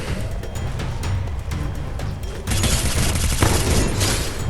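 Dense gunfire from a shooting video game, continuous rattling bursts that grow louder and heavier halfway through, with no clear speech over it.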